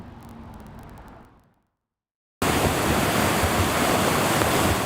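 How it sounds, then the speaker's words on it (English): Swollen Hunlocks Creek rushing hard along Hillside Road near Shavertown after flood rain from Tropical Depression Debbie, a loud steady roar of water that breaks off briefly into silence before resuming at full strength. "Here's a look from the creek moving swiftly along Hillside Road near Shavertown."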